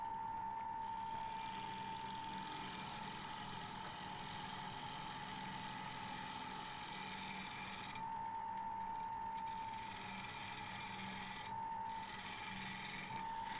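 A 40-40 gouge taking heavy cuts on an oak bowl spinning on a wood lathe: a constant rasping scrape over the steady motor hum, continuous for over ten seconds with brief pauses in the cutting.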